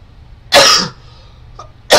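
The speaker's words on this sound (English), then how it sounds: "Sorry, I'm coughing" Two loud, sharp coughs from a person who is sick, close to the microphone, separated by a short pause with a faint small sound between them.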